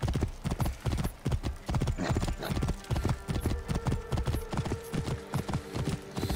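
Horse hooves clip-clop at a steady galloping rhythm while riding in the video game Assassin's Creed Origins, loud and close, with a brief whinny and faint talk in the background.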